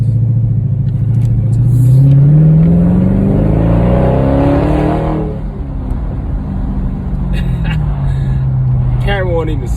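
A Dodge Charger Scat Pack 392 drives through narrow neighborhood streets, its engine rumbling steadily and swelling as it accelerates, then settling back, with someone talking over it.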